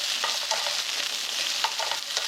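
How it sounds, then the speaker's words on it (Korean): Cucumber stir-fries quickly in cooking oil in a frying pan over high heat. A bright, continuous sizzle carries occasional scraping stir strokes, close up with no voices. "오이를 한번 얼른 센 불에 볶아주세요."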